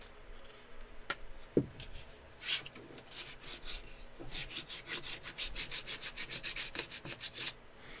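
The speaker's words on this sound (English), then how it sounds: "this is going to use a lot of sandpaper." Hand sanding with sandpaper: scattered scrapes at first, then a steady run of quick, rhythmic back-and-forth strokes, close and fairly quiet, with no talk.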